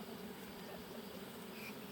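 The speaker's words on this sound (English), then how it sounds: "There's a lot of bees in there." A swarm of honeybees buzzes inside a box at a cider orchard, a faint, steady, close hum with no talking.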